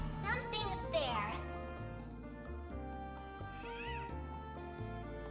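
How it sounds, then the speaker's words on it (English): A cat meows twice in the video game Trails Through Daybreak 2, short rising-falling cries heard over game music and voices talking. "But I heard a cat"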